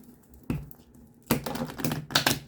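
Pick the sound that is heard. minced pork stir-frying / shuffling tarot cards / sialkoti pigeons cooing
shuffling tarot cards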